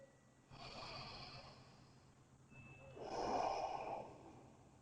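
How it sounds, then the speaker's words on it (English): Deep breathing during a yoga pose: two long, slow breaths, a steady inhale and a heavier exhale, soft and close with quiet room tone between. "And a few deep breaths."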